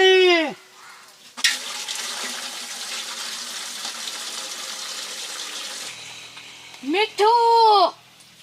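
Water pours into a cooking pot for village-style bhungla bataka, a loud, steady rush lasting several seconds, framed by people talking before and after.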